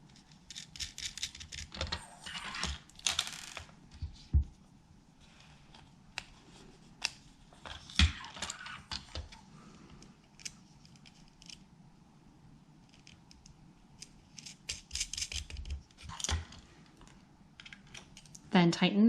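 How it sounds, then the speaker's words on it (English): Small metal screws and nuts from a STEAMCODE Bionic Robot Dancing Mouse kit are handled and fitted, with quiet clicks, taps and rattling plastic parts in irregular bursts, some louder clusters near the start and end. "Inserting a metal screw, and attaching the nut to the back."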